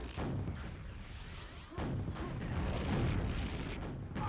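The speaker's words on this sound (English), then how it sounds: "Eats a couple of rockets from Nemesis." Rocket explosions from a Quake deathmatch at a QuakeCon tournament, rendered as dense, continuous rumbling booms that cut out briefly and then resume loud and sustained, with no voices.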